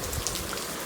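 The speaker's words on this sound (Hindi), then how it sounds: "बड़ी तेज़ वाली बारिश आई थोड़ी देर के लिए थी" Heavy rain pouring down in a village, a dense steady hiss of falling water that fills the whole short stretch with no breaks or voices.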